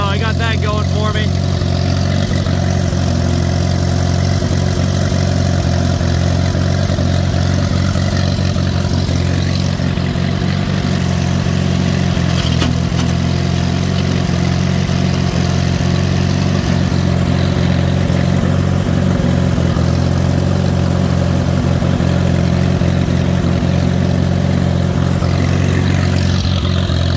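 An Allis Chalmers tractor engine runs loudly and steadily close by, a continuous low rumbling drone with slight variations in pitch throughout, and a voice may be faintly present beneath it.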